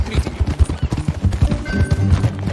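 Horse hooves clip-clop during a ride in the video game Red Dead Redemption 2, a quick, steady run of loud, close hoofbeats with faint background noise.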